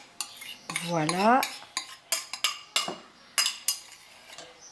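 A spoon clinks and scrapes against a bowl while castor oil is added for a homemade solid shampoo, with a run of sharp metallic taps and a brief rising swirl; a voice speaks once.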